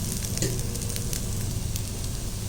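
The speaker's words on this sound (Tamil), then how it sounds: "இப்போ இதை நம்ம நல்லா இப்படி கிளறி விடலாம் சிறு தீயிலே வச்சு நம்ம நல்லா இதை ஃப்ரை பண்ணணும்" Pieces of colocasia (taro root) sizzle steadily as they fry and get stirred in a pan over a low flame, a continuous close crackling hiss with occasional stirring scrapes and no voices.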